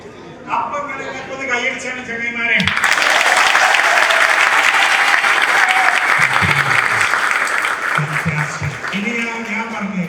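A crowd at an international career talk on engineering your future by a speaker bursts into loud, sustained applause after a short stretch of someone speaking, and voices carry on over the clapping.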